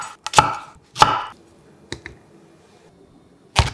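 A knife chops red and yellow bell peppers into chunks on a cutting board, with a few sharp, distinct thuds spaced irregularly and some quieter taps between.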